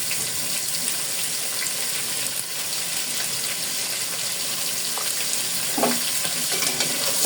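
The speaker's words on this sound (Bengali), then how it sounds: "দিয়ে দিচ্ছি আলুটা একটু ভাজবো মাছটার সাথে" Potato frying in a pan with fish and turmeric for a Bengali big-fish curry: a dense, continuous close-up sizzle with a few faint clinks near the end.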